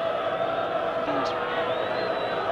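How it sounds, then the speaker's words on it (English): Crowd at a 1968 rugby union match between Interior Buenos Aires and Wales chanting in the stadium, a steady dense roar of massed voices running throughout, with a commentator's voice heard over it. "the crowd chanting for the first time"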